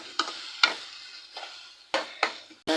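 Tomatoes are stirred while sautéing in oil in a pan over a medium flame for dried fish thokku, with several sharp, separate spatula scrapes against a faint low sizzle and nobody talking.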